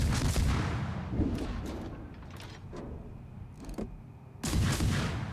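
Battleship North Carolina's main guns fire in a naval combat video game, heavy booming blasts at the start and again near the end with rumbling echoes and scattered smaller impacts between, no talking.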